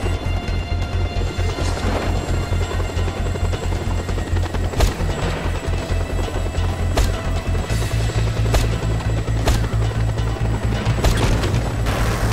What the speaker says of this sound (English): Enemy located. A chopper.